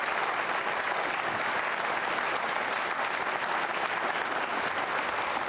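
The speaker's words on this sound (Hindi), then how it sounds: "तालियां जोरों से बजाइए इस अभियान के लिए, इसकी सफलता के लिए" A dense, even burst of audience applause at a quiz show on organ donation with Rajasthan's health minister, loud and sustained with no break throughout.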